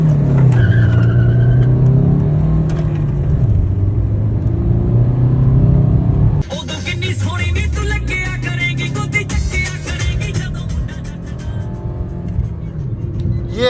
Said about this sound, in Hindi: ये है भाई, डीजल इंजन है तो है भाई, मारुति की रिलायबिलिटी है तो है, इतनी खींच लो।